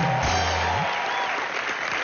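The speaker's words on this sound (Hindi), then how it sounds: "जोरदार तालियां करीना और इमरान के" Audience applause on a comedy talk show set for Kareena and Imran, a steady, fairly loud wash of clapping held at an even level across the moment, with a faint tonal sweep underneath.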